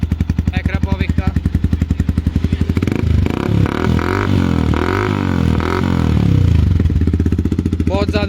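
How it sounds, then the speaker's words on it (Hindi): A Yamaha R15 V2 motorcycle fitted with an Akrapovic aftermarket exhaust idles with a rapid pulsing beat, then revs up and down loudly several times close by before settling back to idle. "तो गाइस, फर्स्ट एग्जॉस्ट एक्रापोविक का।"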